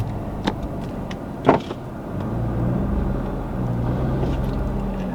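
A Nissan GT-R shifted into reverse gives a few small clicks and whirs close by, then settles into a low, steady mechanical hum and rumble, with no talking.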